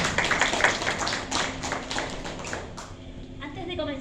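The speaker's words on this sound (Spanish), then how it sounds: "Les pido un aplauso de bienvenida para nuestros autores" An audience at a science fiction and fantasy panel claps to welcome the authors, a loose burst of hand claps that thins out over a few seconds while a voice talks over it.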